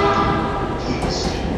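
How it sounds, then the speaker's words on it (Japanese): JR limited express Hitachi bound for Iwaki, a loud close rumble of the train in motion with a steady low drone and brief higher whines, continuous over a short moment. "特急日立号いわき行きです。"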